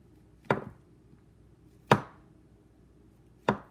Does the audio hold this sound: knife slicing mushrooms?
yes